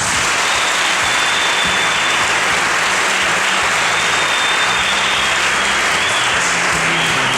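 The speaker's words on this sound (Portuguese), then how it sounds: "Palmas para Jesus." A church congregation breaks into loud, dense, continuous applause for Jesus, a thick unbroken roar of clapping that holds steady throughout.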